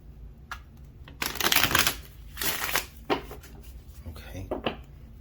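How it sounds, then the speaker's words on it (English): Tarot cards riffle and snap in several quick bursts of shuffling, close up, with short pauses between them. "Let's get one more shuffle."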